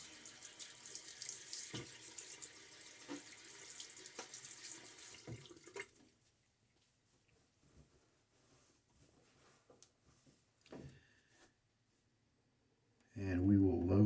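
Water runs from a bathroom sink tap while someone wets their face before a wet shave, a steady close splash for about six seconds, then stops, leaving quiet handling sounds and brief drips.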